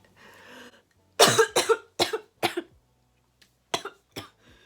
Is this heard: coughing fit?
yes